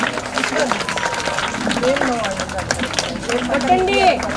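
Children at a school Independence Day celebration clap in a steady patter while voices talk and call out over the applause close by.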